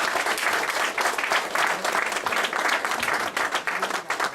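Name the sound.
applause for the mentors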